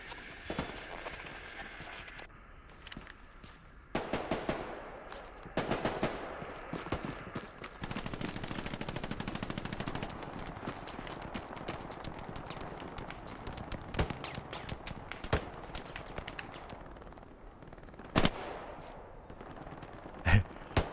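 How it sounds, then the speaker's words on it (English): Gunfire in the World War II shooter Hell Let Loose, with Gewehr rifle test rounds among bursts of distant and nearby shots, sharp isolated cracks, and a loud close shot near the end, with some faint voice chatter. "Fire some test rounds. Here's the Gewehr."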